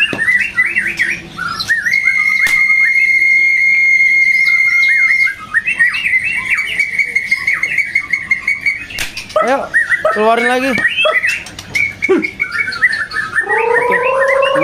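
A captive-bred Murai Medan white-rumped shama sings loud, varied phrases of whistles, trills and harsh squawky notes at close range, with other birds around and someone speaking briefly.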